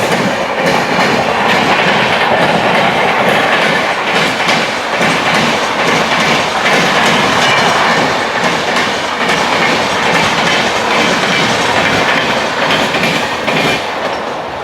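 A Mumbai local train on the Harbour line near CSMT rumbles along with steady clickety-clack of wheels on rails and a faint squeal, loud and continuous, as an express train passes on the neighbouring track.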